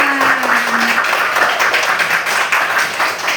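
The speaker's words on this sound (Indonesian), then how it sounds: "Tepuk tangan yang meriah lagi untuk kita semua." Lively audience applause at a talk show greeting a guest, a sustained wash of clapping at fairly loud level, with a brief tonal hum near the start and no talking over it.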